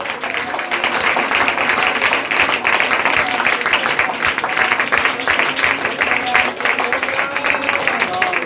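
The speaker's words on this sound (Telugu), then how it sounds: "ఒకసారి చప్పట్లు కొడతారా?" A church congregation claps together during worship, a loud, continuous crowd of rapid, overlapping hand claps that sounds close and sustains without a break.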